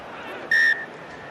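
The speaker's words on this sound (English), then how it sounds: "that brings the final whistle from Romain Poix" A referee's short, sharp whistle ends an Ireland versus Italy Six Nations rugby match, a single blast rising above steady crowd murmur.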